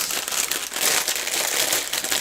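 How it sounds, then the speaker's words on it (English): A plastic bag of LEGO pieces crinkles and rustles steadily and close by, with no talking, as the bags are sorted. "If anything, the plastic bag is noisy."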